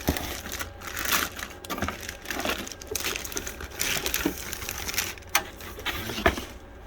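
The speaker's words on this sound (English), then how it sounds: "Pull it out of the box." A Top Gun Technologies Quad 5 unit is pulled from its box one-handed, with close, irregular crinkling, rustling and knocking of packaging that continues throughout.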